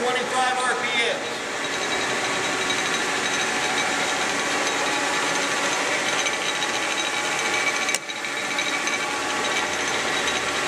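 Leblond 15 x 34 heavy-duty toolroom lathe running steadily at 825 RPM, a loud continuous mechanical whir with a brief clack near the end, with no break in the hum.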